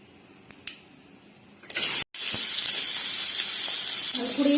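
Potatoes frying in oil in a pan for a Tamil-style potato fry, a sudden loud sizzle bursting in after a couple of soft clicks, then holding as a steady hissing crackle throughout.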